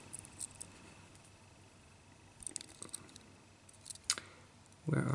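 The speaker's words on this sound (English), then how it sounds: "I've got very small scissors on my Swiss knife." Tiny scissors on a Swiss knife snipping, quiet close clicks and snips scattered through a faint room background, with a louder handling thump at the end.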